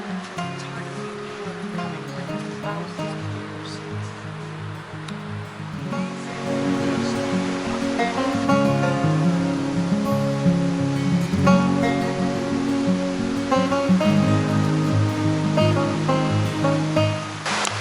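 A river flows steadily near Eremo San Bartolomeo in the Majella mountains of Abruzzo, Italy, a continuous loud rush of water that grows fuller partway through.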